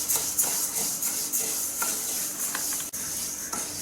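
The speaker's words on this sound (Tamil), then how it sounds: "பாசிப்பருப்பு வந்து வெறும் கடாயில் கருகி போயிடாமல் நல்லா வாசம் வர வரைக்கும், ப்ரௌன் கலராக வர்ற வரைக்கும் நல்லா வறுக்கணும்" Moong dal dry roasting in an empty kadai, a steady dry sizzle with repeated scraping stirs at an irregular rhythm, close and continuous.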